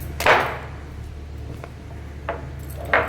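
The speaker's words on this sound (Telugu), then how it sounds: "ఆ వెల్లిపాయలు వచ్చి మంచిగా రోట్లో మన చిన్న రోలు ఉంటుంది కదా, అందులో మంచిగా దంచుకొని వేసుకోవాలి." Garlic is pounded in a small stone mortar, giving a few sharp, separate knocks spaced out over a quiet background, with no voices.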